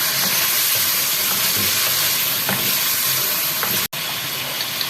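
Steady, loud sizzling of onions frying in a hot pan for a creamy chicken white karahi, with faint stirring scrapes and a brief dropout near the end.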